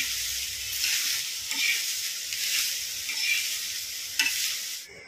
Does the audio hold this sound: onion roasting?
yes